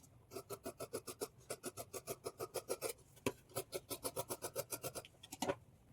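Scissors cut blouse fabric along marked outlines in quick, even rhythmic snips, close and clear, with a short pause midway before the cutting resumes.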